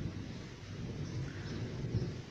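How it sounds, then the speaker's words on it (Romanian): Low, distant thunder rolls faintly under a soft wash of rain, a quiet steady rumble. "probabil și auziți că tună"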